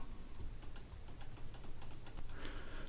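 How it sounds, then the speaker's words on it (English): Key press and mouse clicks while using the Clone Stamp tool in Photoshop: a quick series of sharp, light clicks spaced about every third of a second, close and fairly quiet, with no talking. "So I'll just Alt and click, select a dark area and cover these up."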